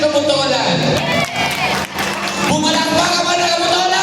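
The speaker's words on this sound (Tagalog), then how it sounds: "Pumalakpak ang hindi taga-Botolan" A crowd at a Christmas party in Botolan claps and cheers, loud and close, with a brief dip before the applause picks up again, mixed with shouting voices.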